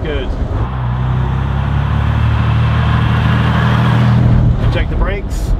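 An Aston Martin DB4's engine pulls steadily in gear, a sustained close rumble that holds and then eases off near the end, with a voice briefly heard.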